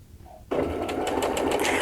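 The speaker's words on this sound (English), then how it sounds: "we'll go ahead and stitch our first row, and you can stitch using either the start and stop button or the foot controller" A Baby Lock Presto 2 sewing machine starts up and stitches a row at a steady, continuous whir with a rapid needle rhythm, close and clear, after a moment of quiet.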